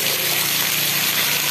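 Heavy rain pours down steadily outside an elementary school in Banaran, Playen, Gunungkidul, a dense continuous broadband hiss of water with no pauses, close and loud throughout.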